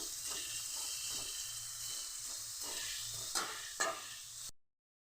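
Bitter gourd sautés in oil in a pan over low heat, giving a steady soft sizzle broken by a couple of faint stirring clicks before it cuts out.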